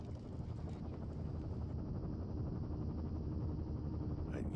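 A helicopter in the video game Firewatch rumbles steadily and loudly with a dense, continuous low thrum of rotor and engine noise that holds level throughout, no voices over it.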